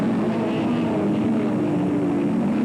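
1980 IMSA Kelly American Challenge race cars approaching the start on the short home straight at Sears Point, a loud, sustained pack of engines droning and buzzing with a slight rising pitch, no speech.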